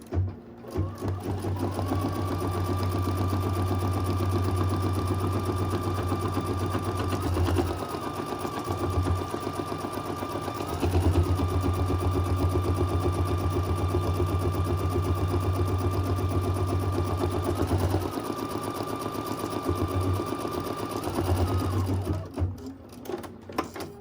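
An embroidery machine stitches down a pocket lining with a fast, even mechanical hum, pausing briefly twice before resuming, close and loud throughout.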